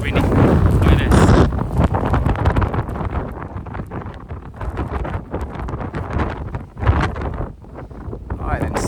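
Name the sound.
strong wind in a Canadian snow storm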